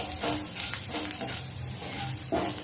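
Spices sizzle steadily in a hot pan with oil while being roasted for a poha and potato kachori filling, a close, continuous crackling hiss with faint stirring scrapes.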